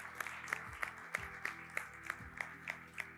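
Clapping at a quiz show for the players comes as a rhythmic, evenly spaced beat of claps over a sustained musical backing, moderately loud and steady throughout.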